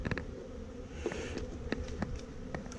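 Honeybees buzz at the entrance of a hive after a weak colony is moved into a nuc box: a steady, close swarm drone of many wings, continuous throughout with a few louder passes as individual bees fly near.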